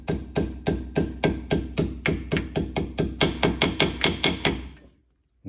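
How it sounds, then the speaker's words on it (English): Brake pad pins on a Shelby GT500 rear brake are driven in with a hammer. Around seventeen sharp metallic taps come in a quick, even rhythm, close and loud, then stop abruptly. "I'm going to put my head in and tap these in."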